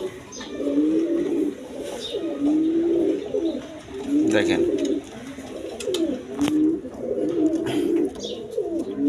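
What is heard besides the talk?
Danish magpie pigeons cooing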